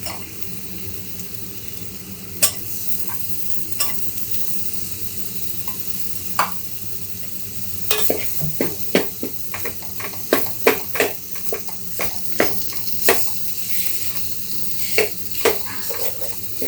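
Masala paste sizzles and fries in a pan for a spicy chicken and mutton dish, with a steady hiss under repeated sharp scraping and clattering stirring strokes that grow busier in the second half.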